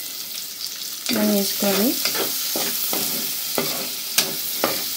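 Onions and green chillies hit hot oil with a sudden loud sizzle, followed by steady frying hiss and a few sharp spatula scrapes against the pan; a voice speaks briefly at the start.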